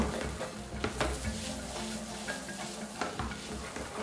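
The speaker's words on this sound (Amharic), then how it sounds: "በቆሎ በጣም አሪፍ ቃና እስከሚያመጣ ድረስ ወይም ደግሞ በጣም እስከሚበስል ድረስ መጥበስ አለብን።" Fresh corn kernels frying in a pan for a cream-free corn pasta sauce, an irregular sizzle broken by scraping stirs and clinks of a utensil against the pan, with no talk.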